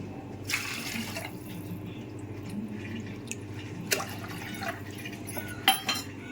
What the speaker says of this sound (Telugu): ఇప్పుడు వాటర్ పోసుకుందాం